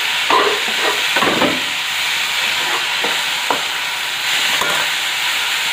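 Tomatoes added to onion, chili and ginger fry in a pressure cooker with a steady loud sizzle, while a spoon stirs and scrapes against the metal in several short strokes.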